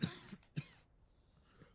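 A person coughs twice in quick, dry bursts, close and fairly soft, followed by a faint throaty sound with no talking.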